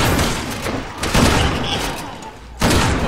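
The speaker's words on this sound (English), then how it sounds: "you keep shooting at it. I'm shooting it." Rapid bursts of gunfire in the co-op zombie shooter Resident Evil 6, loud and close, with sharp blasts near the start, middle and end, and a player's voice mixed in.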